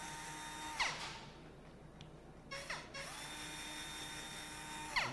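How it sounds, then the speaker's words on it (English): A small surgical power drill driving pins into a total knee replacement guide, with three short whirring bursts separated by quiet pauses, fairly faint over a steady background hum. "So as we'll put little drill pins into this guide,"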